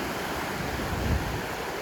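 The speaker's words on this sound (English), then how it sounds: "We're just at the beach here now, right beside Vase Rock." Ocean surf washes onto a beach beside Vase Rock on Xiaoliuqiu, Taiwan, a steady broadband rush with a slight swell in the middle, mixed with some wind noise and no voices.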